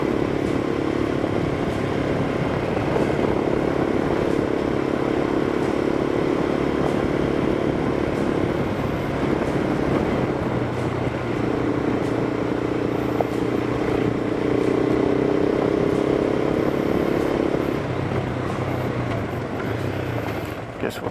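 A KTM 390 Adventure motorcycle engine droning steadily while riding around a reservoir, loud and continuous with slight rises and falls in pitch under wind noise.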